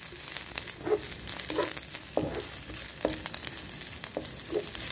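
Onion sautéing in oil in a pan gives a steady, moderate sizzle, with repeated soft scraping strokes of a stirring utensil at a roughly regular pace, heard close up.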